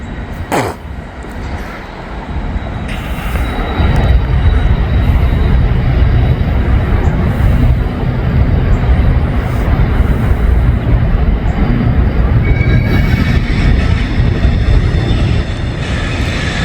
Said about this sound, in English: there is a CSX locomotive in the lead